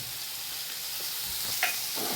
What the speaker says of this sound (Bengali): এই যে কাঁকরোল দেখো আমার লাল লাল করে সুন্দর ভাজা হয়ে গেছে